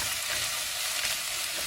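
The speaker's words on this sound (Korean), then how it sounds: "이렇게 양파를 넣어서 이렇게 써주면서 볶는데요" Onions stir-frying in a pan for homemade japchae, a steady dense sizzle and crackle with faint scraping of the stirring utensil, close and continuous with no talk.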